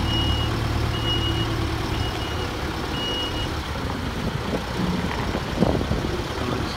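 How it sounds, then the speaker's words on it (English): Farm tractor reversing in a yard to drop off a load of sand, its repeated warning beeps steady over a continuous engine rumble at moderate distance, with a brief louder knock near the end. "that's Stuart's on tractor there. Dropping off a load of sand, I would imagine"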